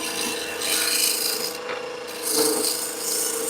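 A rough wood rasp files a turned wooden bud vase in long back-and-forth strokes, a close scratchy rubbing that pauses briefly between passes.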